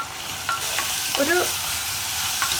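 Onions sautéing with half a teaspoon of salt and a few curry leaves for an egg curry, a steady sizzle under a few soft stirring scrapes, close and moderately loud with no talk.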